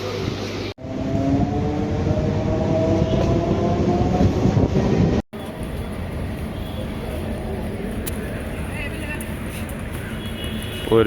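Steady loud rumble of a local train heard from on board, wheels clattering under faint voices, with a short cut midway before the running noise carries on.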